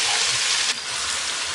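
Ground chili paste sizzling and being stirred in a hot wok, a steady close frying hiss with a slight drop in intensity partway through.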